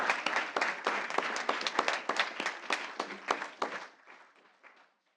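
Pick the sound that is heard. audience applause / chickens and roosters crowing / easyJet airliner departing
audience applause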